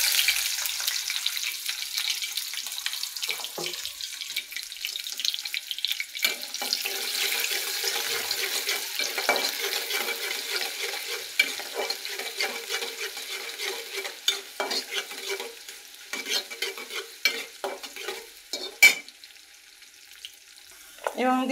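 Chopped onion dropped into hot oil tempered with black cumin, sizzling and frying steadily with stirring and scraping in the pan, plus a few clatters and occasional faint running water.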